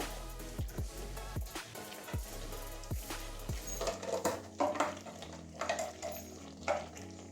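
Garam masala is stirred into a taro curry in a pan, giving a series of close, rhythmic scraping and clinking strokes over a soft sizzle, with a low hum at first that drops away, and no voices.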